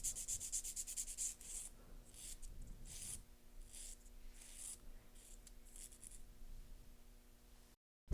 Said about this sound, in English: Step number 3, shape the free edge.